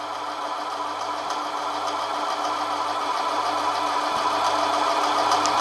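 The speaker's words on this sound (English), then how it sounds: "The lathe is definitely slowed down at this depth of cut though." A Manson lathe takes a deep cut in aluminium, throwing off a long continuous spiral chip, with a steady, dense mechanical drone and cutting hiss that holds loud and unbroken throughout, no voices.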